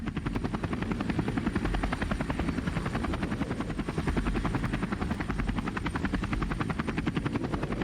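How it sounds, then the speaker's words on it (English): A helicopter in the virtual-reality game BONELAB, its rotor chopping in a steady, loud, rapid thrum with a whining engine buzz, continuous and close throughout. "I mean, it's a helicopter"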